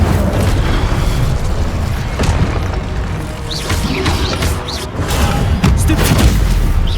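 Incendio fire spell cast in Hogwarts Legacy amid combat, with loud repeated booms, crashes and whooshing bursts layered over a constant rumbling game soundscape.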